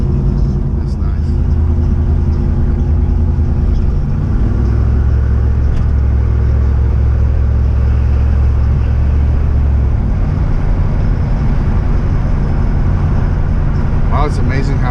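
An '82 car's engine runs steadily on the road with a continuous low rumble whose pitch shifts as it pulls, heard from inside the cabin, with a person talking over it.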